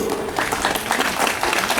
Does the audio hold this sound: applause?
yes